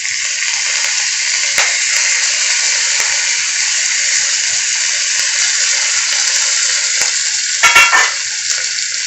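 Curry leaves and chili sizzle hard in hot oil in a pan while tempering for sabudana khichdi, a loud, continuous bright crackle with brief bursts of spattering near the end.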